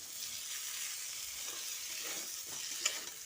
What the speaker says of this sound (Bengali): সর্ষে ও মৌরিটা দিয়ে কুমড়োর সঙ্গে ভালো করে মিশিয়ে নিচ্ছি।